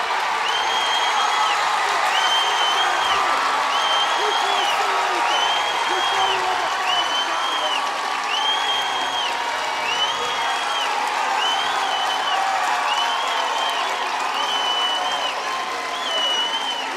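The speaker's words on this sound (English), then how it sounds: "Mike White has fired up this crowd and perhaps his team" Stadium crowd at a Texas A&M versus Texas college softball game cheering and applauding steadily, a broad roar of claps and voices, with an announcer talking over it and a repeated high whistle-like tone riding on top.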